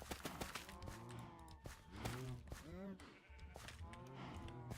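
Cows mooing on a farm in the Minecraft GregTech modpack, several bleating, lowing calls overlapping in quick succession, close and loud over a busy game background.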